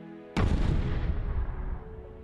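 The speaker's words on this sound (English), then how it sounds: "second explosion of the day." A heavy explosion erupts with a sudden, loud broadband blast, then rolls into a long, deep rumbling decay that fills the rest of the moment, with no voices present.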